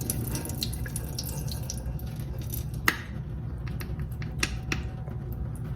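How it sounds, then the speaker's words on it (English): Juice from a can of Veg-All drains into a kitchen sink with a steady watery trickle and splash, with a few sharp metallic clicks and taps of the can against the sink. "I'm going to drain the juice"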